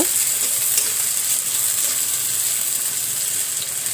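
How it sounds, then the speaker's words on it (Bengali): Dried fish frying in hot mustard oil, a dense continuous sizzle and hiss close up, steady in loudness with no talk. "আমি সরিষার তেল দিয়ে দিলাম এবারে আমি শুটকিগুলো দিয়ে দিব তো আমি সব একসঙ্গে ভেজে নেব"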